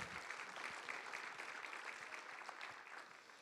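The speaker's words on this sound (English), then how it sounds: "Let's give Max a round of applause, please." Applause at a school board meeting honouring a student baseball player, a sustained round of clapping from a seated crowd, steady and somewhat distant, tapering slightly at the end.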